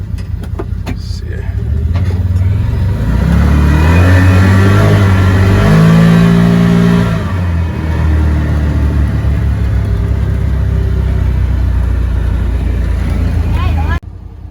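A 2021 Can-Am XMR Max ATV, speed-tuned with limiters removed, revs hard in low gear, its engine climbing and falling in loud sustained surges that cut off abruptly near the end.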